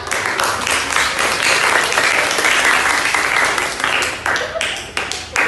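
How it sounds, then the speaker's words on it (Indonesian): Applause from a classroom group of students honoring group 4, dense continuous clapping for several seconds with a few voices mixed in. "Tepuk tangan buat kelompok 4"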